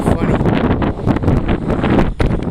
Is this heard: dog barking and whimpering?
no